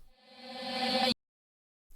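A reversed reverb tail from a vocal sample swells steadily louder for about a second, then cuts off abruptly into silence before a short burst returns at the very end.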